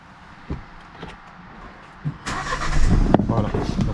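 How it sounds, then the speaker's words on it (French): A Renault Megane 4 cranks and fires up after a battery change. A few quiet clicks and taps lead into the engine catching and running at a steady, fairly loud idle, with a voice briefly audible nearby. "on va faire un petit essai pour voir si tout marche bien, si elle démarre bien."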